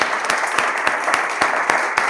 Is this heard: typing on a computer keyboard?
no